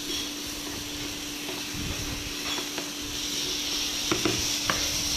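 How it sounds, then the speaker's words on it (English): Keema being sautéed in a pan over very high heat for katl keema, a steady close hissing sizzle with a faint hum and a few soft scrapes and taps of stirring. "So I'm just sauteing"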